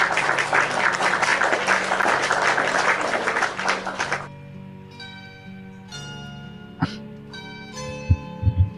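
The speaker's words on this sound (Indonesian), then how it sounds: "tepuk tangan buat Ika yang cantik dan manis." Audience applause at an evening talk session fills the first four seconds as dense, loud clapping, then stops, leaving sustained bell-like musical tones and a few short knocks.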